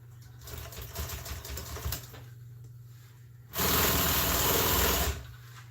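A sewing machine stitching a seat cover runs in short bursts, a steady mechanical chatter, then a louder, brighter run near the end; close and alone, with no talking.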